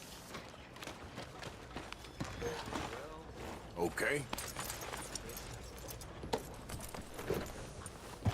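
Horse hooves clip-clop in a Red Dead Redemption 2 scene, beneath a person talking and other game sounds.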